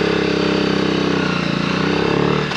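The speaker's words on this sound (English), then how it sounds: "I really do love that underslung exhaust, and it sounds really beefy, really beefy" A motorcycle with an underslung exhaust idles close by, a deep, beefy, steady pulsing burble that holds evenly for a couple of seconds with no talk over it.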